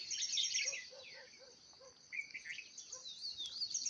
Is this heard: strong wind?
no